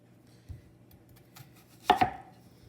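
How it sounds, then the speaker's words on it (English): An onion is finely cut with a square-bladed Japanese knife on a board: one soft tap, then a sharp double knock of the blade striking close by, with no speech. "I don't want like really big chunks of onion in my quiche, so I'm going to cut it rather finely."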